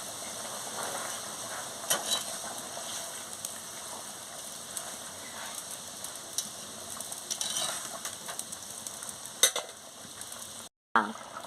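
Soya chunk and potato curry simmering in a pan, giving a steady, crackling bubble with scattered sharper pops throughout, close and continuous, cut by a brief silent gap near the end.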